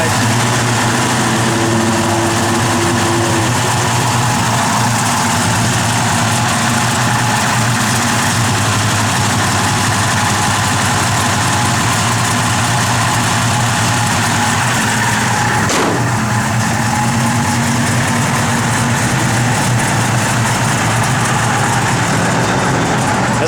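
A 1967 Plymouth Belvedere idling with a lumpy cam lope, a steady low rumbling engine note that holds loud and close throughout, with a brief sharp knock partway through.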